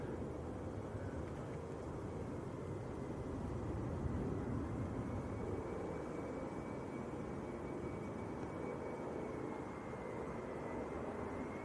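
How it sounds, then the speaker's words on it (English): A Jet2 airliner on approach to Leeds Bradford Airport, crabbing into a gusty crosswind, gives a steady broad engine roar with a faint high whine, continuous and moderately distant under breezy wind noise. "You can see this Jet 2 crabbing into the wind."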